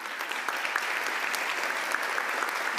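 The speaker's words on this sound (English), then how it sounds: "Please join me in giving them an applause." Dense, steady applause fills a university graduation ceremony hall as the audience claps for the professors and faculty, a continuous even patter with no voices on top.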